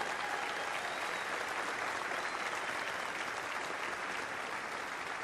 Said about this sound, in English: let's give our shipbuilders a great round of applause